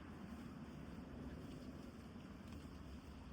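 Strong wind buffets the microphone on a bridge in Japan, producing a steady low rumbling roar with no pauses and no talking.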